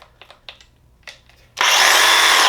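A DeWalt FlexVolt cordless reciprocating saw starts after a few faint clicks and handling noises, then runs loud and steady at full speed, a dense high buzzing whine held to the end.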